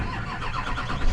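A 2004 Chevrolet Silverado pickup cranking and catching, a dense, rumbling engine start that swells louder at the end, heard close up.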